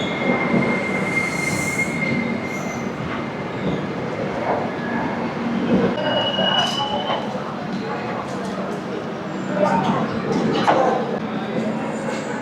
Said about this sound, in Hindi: पीछे से अब आ रही है वैशाली एक्सप्रेस